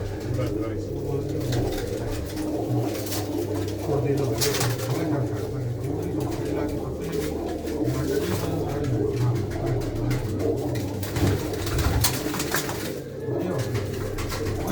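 Pigeons coo steadily in a loft, their low rolling calls overlapping continuously throughout, with people talking nearby underneath.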